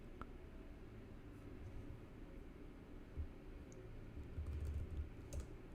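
Faint, steady clicking of typing on a computer keyboard during a programming session, with quiet irregular keystrokes over low background hiss and no speech.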